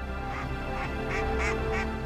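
Barnacle geese call repeatedly in short honking bursts, about five calls spaced evenly over a steady background rumble, heard from an ultralight aircraft in flight over the Cantal.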